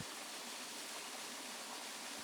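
A waterfall reached at the end of a hiking climb gives off a steady, even rush of broadband water noise. It stays faint and constant throughout, with no voices over it.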